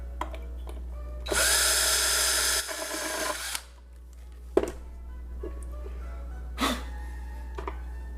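A power drill drives a screw down into a wooden box, one loud sustained whir of about a second and a half that then stops, followed by a few faint clicks and knocks.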